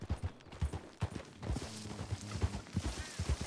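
Horse hooves clop steadily in the RedM western video game, a brisk rhythmic gait of close, distinct hoofbeats with soft background ambience.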